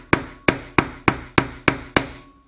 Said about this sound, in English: as we hammer this down into place